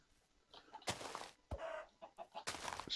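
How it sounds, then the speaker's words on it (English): Chickens cluck and squawk in a survival video game, sharp bursts of fowl calls in close succession with quiet gaps between. "Stupid chickens."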